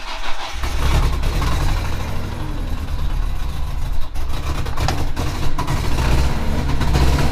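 A car with a suspected blown head gasket cranks and runs roughly, a loud, close, rumbling engine noise with uneven surges throughout.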